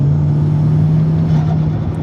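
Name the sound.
turbocharged Chevy Cruze engine revving under throttle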